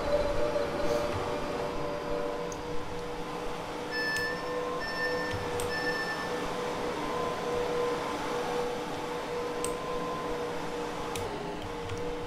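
A Wolverhampton to London Euston train passes in Train Simulator 2019, a steady low rumble and hum of rolling stock with faint tonal whines and brief high squeals over the drone.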